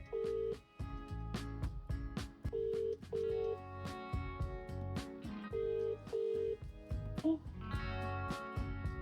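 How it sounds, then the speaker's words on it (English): An Eonon VWX7 Android Auto head unit plays a phone call through the car speakers, with a run of dialing tones followed by repeated ringback tones in a regular rhythm and almost no talk. "So before we finish, we will make a phone call"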